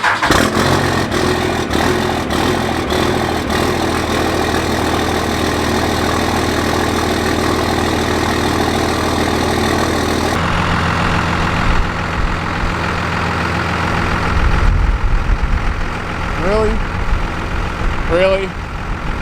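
A truck engine cold-starts and settles into a steady idle near a shop, a loud continuous rumble that shifts in tone partway through, with people talking over it.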